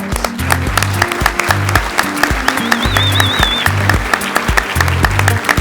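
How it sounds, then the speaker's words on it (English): A conference audience applauds the panelists, dense sustained clapping from a seated crowd, loud and continuous, with some background murmur mixed in. "I want another round of applause for the panelists."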